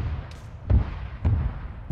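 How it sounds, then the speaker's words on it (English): Two dull, deep explosion thuds boom from a distance in the ARMA 3 Vietnam campaign battlefield, spaced about half a second apart over a low rumbling background. "I don't know what the hell those explosions are."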